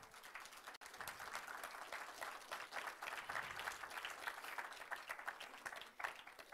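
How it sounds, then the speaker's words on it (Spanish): Sustained applause from an audience at a Spanish-language talk welcomes volunteers to the front, a dense, steady wash of many hands clapping that holds at an even level for several seconds with a brief dip near the start. "Aplauso, por favor."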